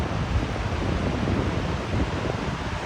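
Continuous rushing surf noise at Newport, Oregon, a steady broadband wash of Pacific Ocean waves mixed with wind buffeting, loud and close with no voices.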